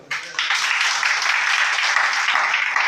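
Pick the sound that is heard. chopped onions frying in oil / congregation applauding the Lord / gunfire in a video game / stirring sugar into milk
congregation applauding the Lord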